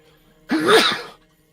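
A single sharp sneeze bursts out close by, lasting about half a second, then fades to quiet room tone.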